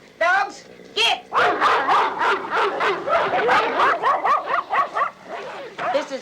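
Dogs bark and yip over and over at close range, a busy run of overlapping barks with some whimpering, mixed in with a voice shouting at them.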